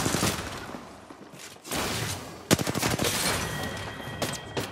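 A Mastiff shotgun fires in Apex Legends, sharp close blasts in an irregular burst pattern with reload clatter between them and further gunfire in the mix, loud and punchy with no talking.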